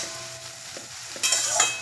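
Shortcut pasta is stirred in a hot pan, soft scraping strokes over a low sizzle, followed by a louder burst of frying hiss partway through, close by and without speech.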